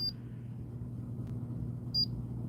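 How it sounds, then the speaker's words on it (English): An EMF reader gives short high electronic beeps while its button is held down in a quiet basement, two brief faint tones about two seconds apart over a low steady hum. "hold this button down here till it beeps"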